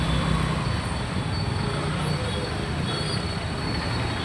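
A metro train rolls along an elevated track beside a busy main road, a steady, loud rumble of wheels and rail noise that fills the whole moment with constant roadside traffic mixed in.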